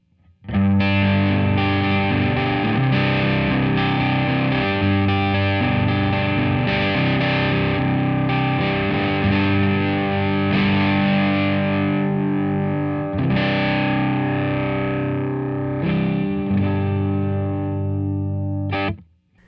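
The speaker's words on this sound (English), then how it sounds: "So I'm going to flip it over to the blues driver side and see what that sounds like." Electric guitar through a Keeley DDR pedal on its Blues Driver overdrive side, a loud, continuous stretch of distorted chords and riffs lasting about eighteen seconds, with no talking.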